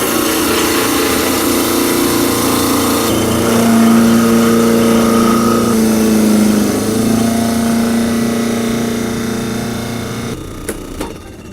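A Waring Liquilock food processor grinds frozen strawberries into a fine confetti, a steady loud motor whine with a shifting pitch that runs throughout and ends with a few clatters.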